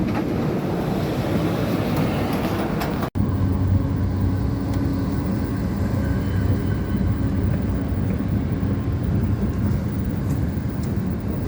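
A continuous rumbling roar of a Bangkok MRT subway train running near Phahon Yothin station, with a steady rattle and one brief dropout near the start.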